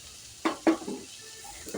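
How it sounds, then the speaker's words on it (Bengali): Tomatoes with salt are stirred in a pan while cooking palak paneer. A spoon makes two quick scrapes against the pan, followed by a faint sizzle. "নুনটা দেওয়ার পর একটু নাড়াচাড়া করে নিচ্ছি।"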